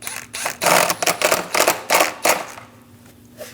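Bolt on the intake assembly of a 2011-2026 Dodge Durango being snugged down, a quick run of close ratcheting clicks in short bursts, then fading to quiet.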